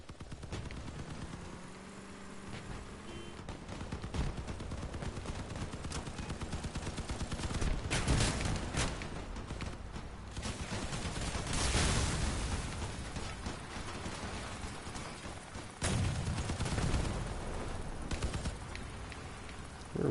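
Dense video-game gunfire in a chaotic fight, with rapid automatic bursts and sharp repeated shots layered over booming impacts, loud and continuous throughout.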